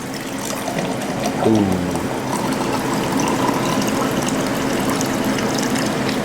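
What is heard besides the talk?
filtered water pouring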